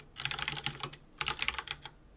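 Quick clattering keystrokes on a computer keyboard as a shortcut is entered to open a terminal, two close bursts of rapid clicks separated by a brief gap.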